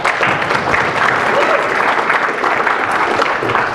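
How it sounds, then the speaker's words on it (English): A conference audience at a capital-markets panel discussion in Fort Lauderdale breaks into continuous applause: a full, even wash of many hands clapping at steady loudness from start to finish, with no voices standing out. "Round of applause for Rob."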